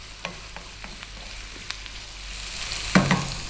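Vegetables stir-fried over high heat for a vegan sweet and sour dish with tofu, giving a steady sizzle and occasional clatters of the utensil moving the food, then a louder burst of sizzling and scraping near the end.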